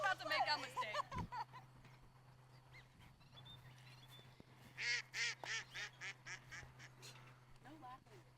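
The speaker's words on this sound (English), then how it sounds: "Duck thought that was funny" A duck quacks repeatedly outdoors at a disc golf tournament round, a run of loud, evenly spaced quacks in the second half following earlier voices and background hum.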